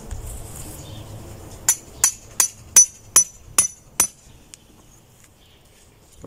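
Marker pins driven into hard garden soil at the corners of an area to dig, heard as about eight sharp, evenly spaced metallic taps in quick succession, then quiet.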